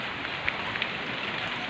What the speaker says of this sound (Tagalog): Ay, yung lumakas ang ulan guys.